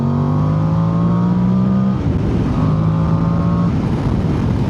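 A Voge DS800X Rally motorcycle engine revs hard in third gear toward 4500 rpm: two loud, close pulls with a rising, harmonic-rich tone and a brief dip between them.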